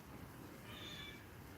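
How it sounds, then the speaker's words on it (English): A cat gives a single faint meow in a room where leather is being restored, drawn out and thin against a steady background hiss, with no talking. "And you can hear a Oreo cat over here."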